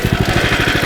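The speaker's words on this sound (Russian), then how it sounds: "Да, движок молодец. Просто супер. Лифан рулит." Lifan motorcycle engine running steadily at close range, a loud, even pulsing idle with a regular rapid thump, alone without voices.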